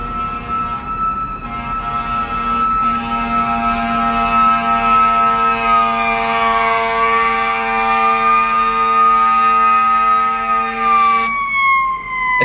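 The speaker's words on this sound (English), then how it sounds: "Oh, it's a fire engine." A loud fire engine siren wails steadily nearby, its pitch rising and falling in long sweeps before dropping as it passes.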